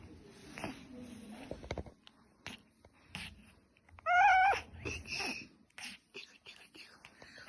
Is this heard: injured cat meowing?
yes